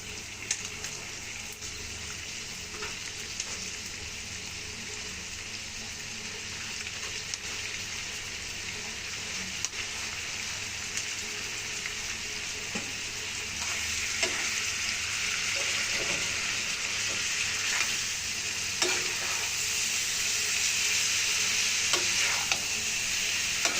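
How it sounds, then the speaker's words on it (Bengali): Snake gourd fries in a pan with ground roasted cumin, giving a steady, continuous sizzle with faint scattered ticks and stirring scrapes. No one speaks throughout. "ভাজা জিরের গুঁড়ো দিয়ে একটু ভেজে আমি চিচিঙ্গাটা দিয়ে দেব"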